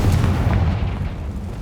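The Confringo spell explodes in the Hogwarts Legacy video game as a loud, close, deep boom that rumbles and fades over a second and a half.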